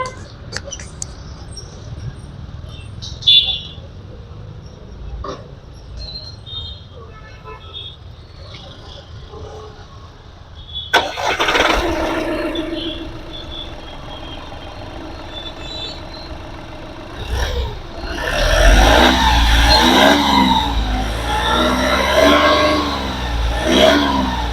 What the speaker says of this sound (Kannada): ಇಂಜಿನ್ ಸ್ಟಾರ್ಟ್ ಮಾಡಿನೂ ಕೂಡ ತೋರಿಸ್ತೀನಿ